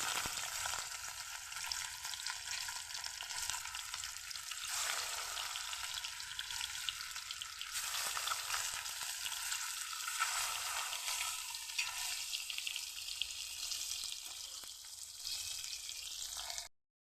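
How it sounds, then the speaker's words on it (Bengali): Rohu fish pieces frying in hot oil in a kadai, a steady close sizzle with soft crackles that runs the whole length before cutting off sharply at the end. "মাছগুলি আমার ভাজা হয়ে গেছে"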